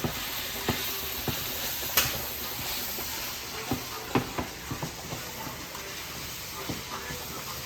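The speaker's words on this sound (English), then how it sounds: "the sausages are getting darkened, and they're still being cooked in with that flavor" Sausages sizzle in a pan for a tomato-sauce spaghetti dish, giving a steady frying hiss with scattered pops and crackles and a few sharper spits, close and moderately loud, with no talking.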